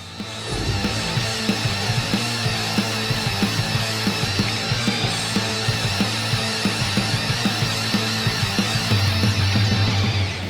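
STIHL GTA 30 cordless mini chainsaw running steadily, a constant close motor whine with a dense buzzing tone and small repeated cutting ticks throughout, alone and loud for the whole stretch.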